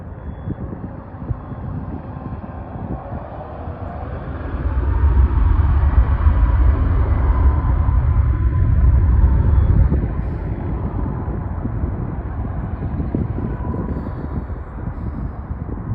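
A Ryanair Boeing 737 MAX 8-200 takes off from East Midlands Airport on a very windy day, its deep engine roar swelling midway and then fading under steady wind buffeting on the microphone.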